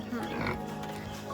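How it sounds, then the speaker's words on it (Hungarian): A pig grunts and snuffles up close in a village setting, with low, rough grunts over a few seconds while people talk nearby. "De rég láttam malacot."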